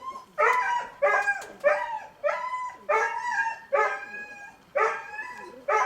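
A dog whines and yelps in a string of about eight high, urgent cries, close by, with brief pauses between each.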